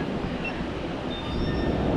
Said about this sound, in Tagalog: So ito yung old train nila, hindi siya MRT.